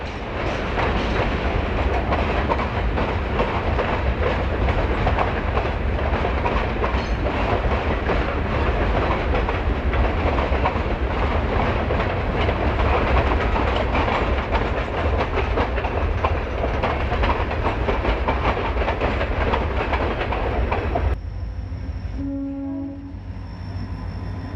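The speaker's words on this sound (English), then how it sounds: "As our train works its way through the scenery at the posted 10 miles per hour" A train on the Portland & Western Toledo branch rolls steadily at about 10 mph, its broadband rumble and clatter filling nearly the whole span before dropping off sharply near the end, leaving quieter background.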